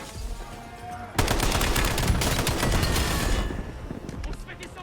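Dense, loud gunfire bursts in the Call of Duty Black Ops 7 video game, a sudden volley of rapid automatic shots erupting after a quieter start and rattling on continuously, with a voice talking over it.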